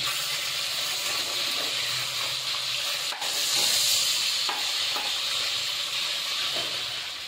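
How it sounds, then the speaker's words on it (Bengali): Rohu fish heads frying in oil with salt, turmeric, green chilli and bay leaf, giving a steady, close sizzle with occasional stirring scrapes, no voices. "মাছের মাথাগুলোকে ভালো করে ভেজে নিতে হবে নুন আর হলুদ দিয়ে"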